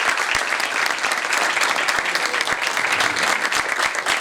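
Loud, dense applause from a concert audience after a harp performance at the CCB, steady clapping filling the whole stretch without a break.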